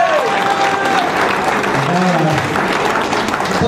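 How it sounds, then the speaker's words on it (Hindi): Applause from a stage-event audience, dense and continuous clapping at steady loudness throughout, with some voices mixed in. "तालियां होना चाहिए ना?"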